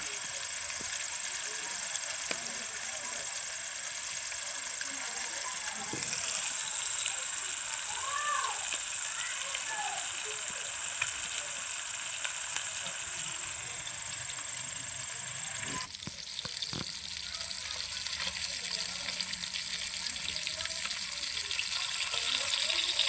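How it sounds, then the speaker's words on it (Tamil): Pomfret fish frying in hot oil, a steady broad hiss and crackle of sizzling that runs throughout at moderate level, with faint clinks and a brief whistling tone partway through. "பாருங்கள் வவ்வா மீன் ஆயிலில் எந்த அளவுக்கு குதிக்குது பாருங்கள்"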